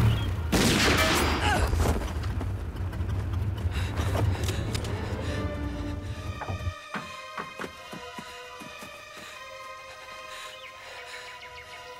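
Loud gunshots crack and boom in a burst at the start, followed by sharp scattered reports and metallic clatter as the noise fades into quieter surroundings.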